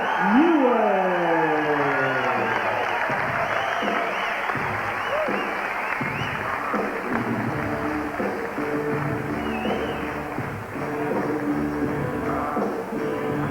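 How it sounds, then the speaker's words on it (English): Boxing arena crowd applauds after a majority decision win, clapping continuing under a loud amplified announcer voice that echoes through the hall. "Give John a big round of applause."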